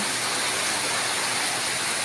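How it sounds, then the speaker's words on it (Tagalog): Heavy rain pours steadily over a village, a dense, even hiss of falling water that stays constant and fairly close, with no voices or other sounds breaking through. "Malakas ang ulan."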